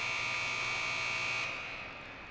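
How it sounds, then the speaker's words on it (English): End-of-game buzzer at a junior girls' hockey game between Mississauga and Durham West, a single loud sustained electronic tone holding for about a second and a half, then cutting off into arena ambience. "with that, the buzzer goes."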